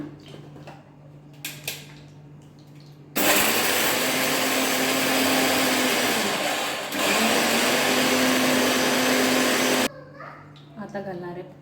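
A mixer grinder whirs loudly for about seven seconds, grinding sugar, cashews, almonds and cardamom into a fine powder, with a steady high whine that dips briefly midway; a voice talks before and after.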